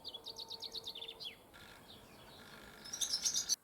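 Swallows twittering in rapid descending chirp series, fairly faint and distant outdoors, with a pause and a brighter burst of high calls near the end.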